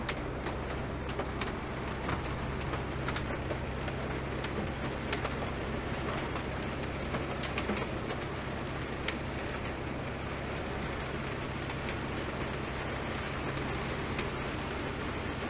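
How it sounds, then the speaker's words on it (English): Steady, loud hiss of heavy rain pouring without pause during a thunderstorm in Kansas, with a constant low hum underneath and faint bird calls in the background. "Raining hard."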